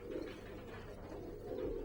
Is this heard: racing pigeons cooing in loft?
yes